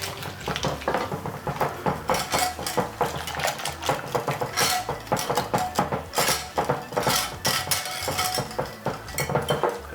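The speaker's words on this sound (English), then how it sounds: "Give it a little, mix it around. You can use a fork" A fork scrapes and clinks rhythmically against a bowl while a thick flour-and-water batter for coconut shrimp is mixed, the close, busy metallic taps and stirring strokes filling the space with no talking.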